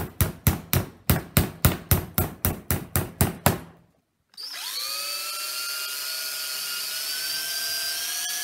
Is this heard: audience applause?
no